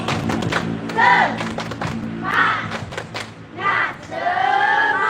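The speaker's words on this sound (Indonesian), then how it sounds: "Oke, tepuk semangat." A group claps out a rhythmic spirit clap in a classroom-style quiz session, sharp hand strikes in quick patterned bursts mixed with shouted chanting voices, fairly close and loud.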